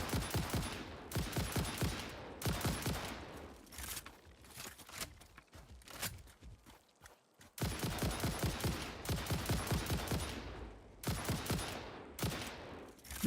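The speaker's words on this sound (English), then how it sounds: "I gotta get better at shooting these guys" Rapid bursts of gunfire in the factory-building video game Satisfactory, loud, dense volleys in several clusters with a quieter stretch in the middle, no talking.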